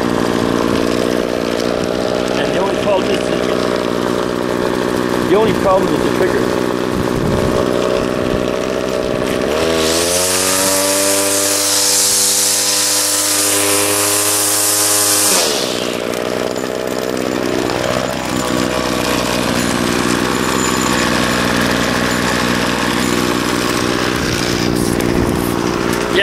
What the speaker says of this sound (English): let it idle for a while and rev it up